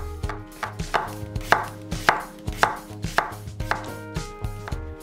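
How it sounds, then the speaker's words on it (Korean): Half a cucumber sliced fairly thick with a knife on a cutting board, about a dozen crisp, evenly spaced chops in a steady rhythm, close and clear with no talking. "오이 반개는 살짝 굵게 슬라이스"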